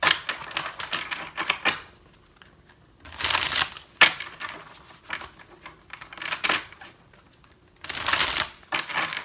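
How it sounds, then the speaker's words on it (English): Tarot cards shuffled by hand in a quiet room, coming as close, crisp riffling bursts with brief pauses between them and no talking. "Oh, I'm going to pull some more tarot cards."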